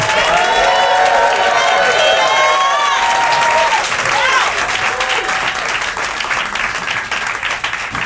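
A large crowd claps and cheers loudly, with whoops and shouts rising over dense applause that stays steady, then thins slightly toward the end.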